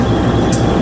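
The Argo Wilis express, a southern-line train in Bandung, runs straight through at speed, a loud, close, steady low rumble and roar of rolling stock with a brief hiss partway through.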